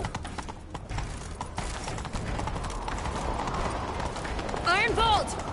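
A horse gallops with a steady clip-clop of hooves in The Witcher video game, under a continuous ambient wash, with a brief voice-like sound near the end.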